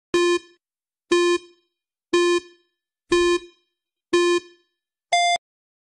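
A quiz timer sounds six evenly spaced electronic beeps about a second apart, the last one shorter and higher-pitched, loud and clear with silence in between.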